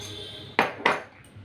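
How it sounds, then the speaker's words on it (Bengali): Two quick, bright metallic clinks ring out as a spoon strikes a kadai while cocoa powder is stirred in, close and distinct against a quiet kitchen. "কোকো পাউডারটা এইভাবে কড়ার সাথে নেড়ে নিলাম।"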